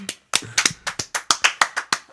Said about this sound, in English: Clap it up for Andrew's dad.